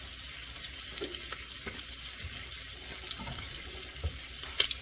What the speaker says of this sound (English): You're just making a nice sear on each side at this point.